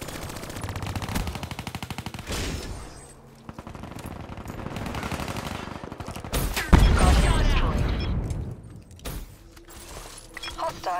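A deployed sentry gun turret in Black Ops 3 multiplayer, rapid automatic gunfire bursts clattering loudly over other game effects, with a louder explosive blast partway through.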